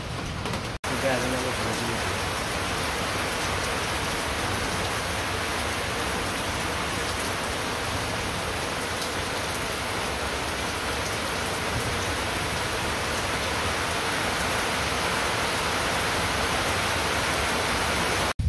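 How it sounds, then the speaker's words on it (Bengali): Steady rain falling outdoors among trees, a dense even patter of raindrops close by that runs continuously throughout with no break. "এই যে বৃষ্টির ফোঁটা পড়তে আছে"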